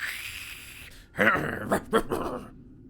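A voice imitates a wild animal's intimidating growl, a low rough rumble in a few short bursts after a brief lead-in, close and fairly loud.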